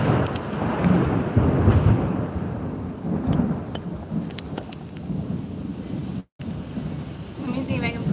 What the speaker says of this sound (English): Ooh, that was lightning.